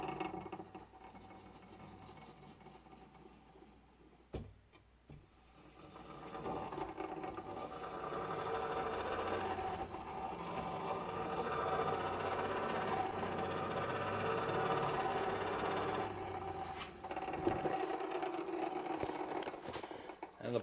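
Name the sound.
cranking a Champion forge blower gearbox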